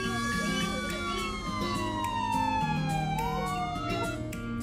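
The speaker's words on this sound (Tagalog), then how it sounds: "this is the sound of a fire truck." A loud wailing fire truck siren sweeps up and down continuously, close by, with traffic rumble beneath it.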